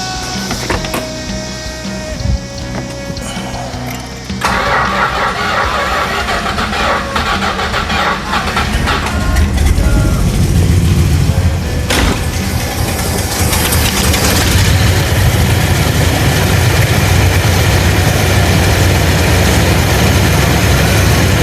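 A 1966 Chrysler New Yorker with a 440 V8 running on makeshift fuel cranks and catches, then settles into a loud, rough, steady idle that grows fuller and louder, close up with no talking.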